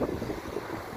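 Brief, fairly faint rush of strong wind blowing across the microphone outdoors along a diversion road, where a kite struggles to climb. The sound is a steady low roar with no voices.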